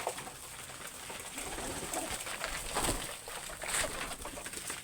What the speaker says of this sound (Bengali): দেখেন আপনারা কি সুন্দর পোষা কবুতর।